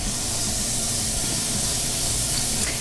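Chopped onion hits hot olive oil in a pan, a steady loud broadband sizzle and hiss that holds evenly throughout, close up and with no talking over it.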